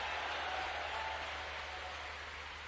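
Steady applause from a large crowd at a rural employment assistants' convention in Bhopal, an even wash of clapping that holds at one level throughout the short span with no voices standing out.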